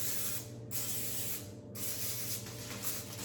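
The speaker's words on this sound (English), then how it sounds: "get the cooking spray on these" Cooking spray hisses onto foil sheets being prepared for salmon, in two close, sharp bursts followed by a softer, longer spray.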